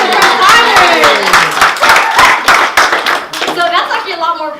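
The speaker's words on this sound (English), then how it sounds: "let's give a round of applause for first timers" Clapping for first-timers at a gathering, dense close hand claps mixed with cheerful voices and chatter over the top, loud and busy throughout.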